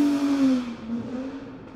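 A Ferrari 250 GTO engine roars loudly and steadily, its low droning pitch dipping and rising slightly as it revs, close and continuous with no talking.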